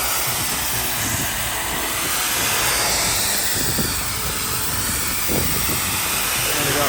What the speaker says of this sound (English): So up here we have Nick doing some power washing